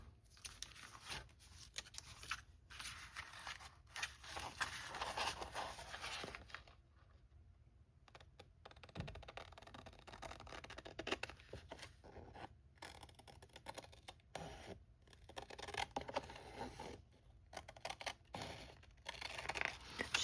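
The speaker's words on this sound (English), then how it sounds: "Trimming really slow so I don't make a mistake." Paper being slowly trimmed with scissors for a Christmas art journal cover, a soft, steady run of snipping and rasping cuts with brief pauses, close and fairly quiet, no talking.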